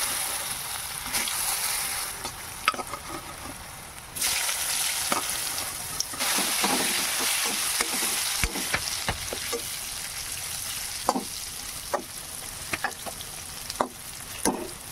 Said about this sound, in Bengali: এবার টুকরা করে আলুগুলো ছেড়ে দিতেছি